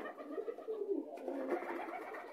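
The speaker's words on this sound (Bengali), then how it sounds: "আজকে ছাড়িনি কবুতর বাইরে" Pigeons coo softly and repeatedly inside a pigeon loft, kept indoors in the days after a virus outbreak. Nearby, clear, low throaty calls repeat without any talking.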